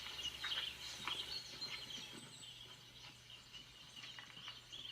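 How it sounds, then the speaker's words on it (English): Faint birdsong in the English countryside, scattered chirps and short calls at a distance over a low steady hum, with no one speaking. "as you hear the birds singing"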